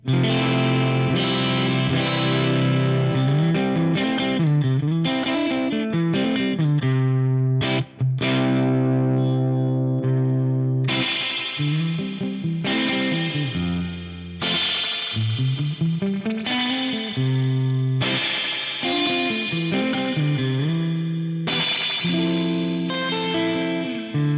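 Overdriven electric guitar riffing loud and steady through an amp, with a splashy, drippy tube spring reverb tail trailing the chords and bends.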